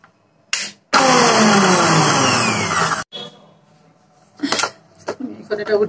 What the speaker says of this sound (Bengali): এখন আমি এটা ব্লেন্ডার করে মেয়োনিজটা তৈরি করে নিব।